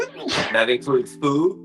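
A person sneezes once, sharp and close, then speech follows.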